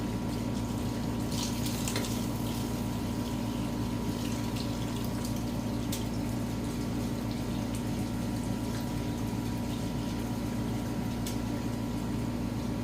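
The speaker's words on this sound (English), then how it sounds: "this puppy flows pretty good, so you don't want to use a lot of it because it will suck that diesel out quick" Parts washer pump flowing diesel while flushing a 1958 Farmall 450 gas tractor, a continuous steady hum with liquid splashing and a few faint clicks, no talking.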